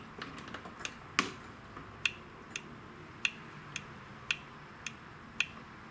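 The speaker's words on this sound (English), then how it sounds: "you want to make sure that you hear the solenoid click" Starter solenoid on a lawn tractor with a Kohler Courage engine clicking as the key is turned, sharp clicks at irregular spacing of roughly one per second, close and fairly quiet over low background hiss.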